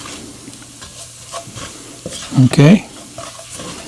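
Flour cooking in a pot as the base for a cheesy kielbasa potato soup, a low sizzle with repeated stirring scrapes and a louder clatter of utensil against pot near the end, with a brief spoken word.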